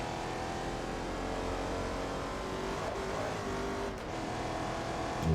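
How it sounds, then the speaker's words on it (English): Race car engine in Forza Motorsport 2 growling with a deep, bassy tone, holding a steady loud drone from a chase-cam view with a brief dip in revs before climbing again at the end. "the engine does sound really, really good when you're looking back"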